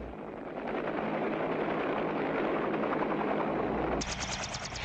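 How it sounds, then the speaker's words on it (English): Troop assault helicopters of a US Army infantry division move into landing zones during a military exercise, their rotors a steady loud chopping roar throughout, with a sharper rapid clatter joining near the end. "The troop helicopters of the assault force are moving into the objective landing zones."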